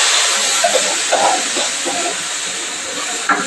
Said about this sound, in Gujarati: ટમેટો, કાંદો, લસણ, મરચું ને આદુની પેસ્ટ બધું નાખી દીધું છે। હવે આને તેલ છૂટું પડે ને ત્યાં લગી છોડવા દેવું।